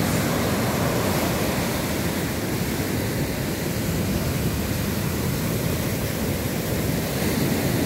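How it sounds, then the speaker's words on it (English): Ocean waves rolling in at high tide on a breezy, cool evening at sunset, a steady broadband wash of surf close by that continues without a break. "Look at these waves."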